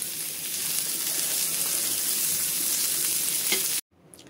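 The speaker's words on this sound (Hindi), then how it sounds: "ये कटे हुए प्याज डाल देते हैं, 2 से 3 हरी मिर्च है और कुछ लहसुन की कलियां हैं, उनको डाल करके थोड़ा सा सॉफ्ट कर लेते हैं" Chopped onions, green chilies and garlic cloves fry in a pan, giving a dense, steady sizzle with occasional stirring, close and continuous until it cuts off near the end.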